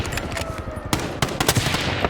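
Rapid automatic gunfire from a Call of Duty match, a dense stream of loud shots with sharp bursts throughout and no talk.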